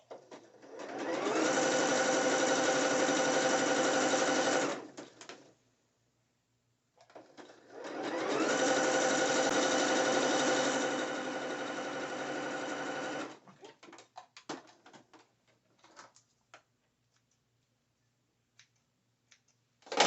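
A sewing machine stitches a net bikini with braided elastic in two steady, buzzing runs of several seconds each, followed by scattered clicks and handling noises between passes.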